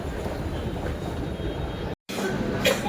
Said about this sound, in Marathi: बसलो आता मेट्रोमध्ये